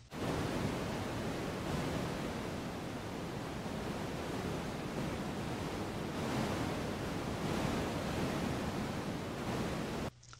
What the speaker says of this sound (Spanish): Ruido marrón es un ruido no muy común,